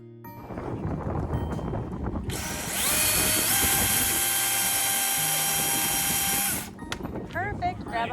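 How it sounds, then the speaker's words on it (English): A tree shaker machine rattles a Christmas tree to shed loose pine needles, a loud sustained mechanical roar and whine lasting about four seconds, with talk before and after it. "He has this nice little shaker machine,"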